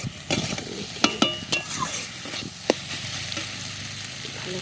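Pointed gourd being stir-fried in a pan, with spatula scrapes and clinks against the metal over a soft sizzle, a few sharper knocks standing out.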